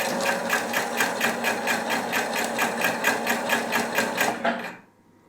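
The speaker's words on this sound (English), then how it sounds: "I will just push on the pedal and the machine will go" A Husqvarna Topaz 25 embroidery machine stitches at a steady, fast mechanical rhythm of repeated needle stabs, loud and close, then cuts off abruptly near the end.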